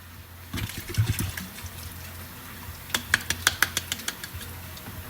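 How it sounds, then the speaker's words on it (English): Tomato sauce is poured into a lasagna meat mixture, giving soft wet glugging and splattering sounds near the start, then a quick run of wet slaps and taps from a spoon or pan, close up, with no talking. "we're gonna add our sauce."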